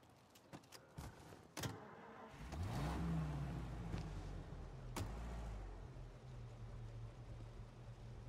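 A car in the Mafia: Definitive Edition video game starts after door and key clatter, then its engine revs up and settles into a steady, fairly close drone with no talk.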